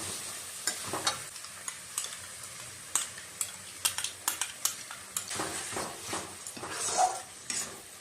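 Spices and tomato being sautéed for a papaya curry: steady scraping and stirring strokes of a spoon against the pan, with clicking metal taps over a soft sizzle, close and alone.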